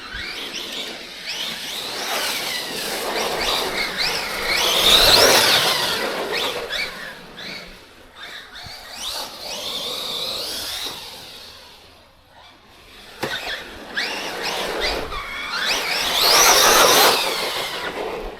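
Redcat Valkyrie 4S MT electric RC monster truck driving under power, a high whining motor that surges in repeated runs, rising and fading with a quiet gap in the middle before another loud pass.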